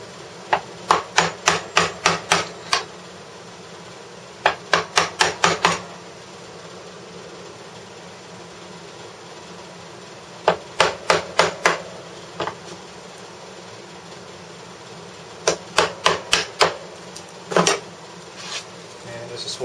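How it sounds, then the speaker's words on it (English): Chisel struck with a hammer while cleaning out wooden dovetails down to the line: sharp bursts of rapid taps in groups of five to eight, with pauses between, close and crisp over a low steady hum. "take a chisel and clean it right down to the bottom of the line"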